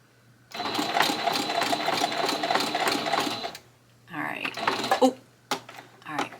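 Sewing machine stitching a belt loop on old jeans, running loud and steady for about three seconds, then stopping; brief handling noises and a few short bursts follow after a pause.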